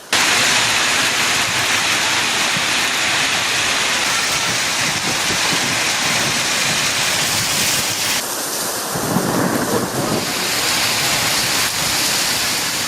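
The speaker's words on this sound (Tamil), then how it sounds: "மாலை நேரத்தில் திடீரென கருமேகங்கள் கூடி கனமழை பெய்ய தொடங்கியது" Heavy evening rain pours down over Madurai city, a dense, loud, unbroken hiss that continues for the full length with a brief dip partway through and no voices.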